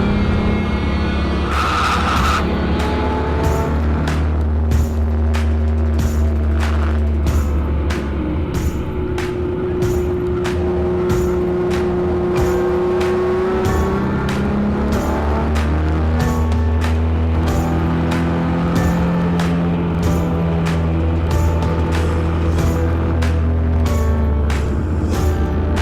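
A track car's engine drones steadily and loud, accelerating out of corners with throttle modulated against oversteer and tire spin, the low rumble shifting in pitch over a long stretch of driving.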